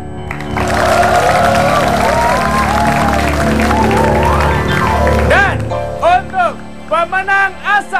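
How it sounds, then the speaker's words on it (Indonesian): A studio audience on a Indonesian TV game show bursts into applause and cheering for about five seconds, then it stops and a presenter speaks alone. "Tepuk tangan"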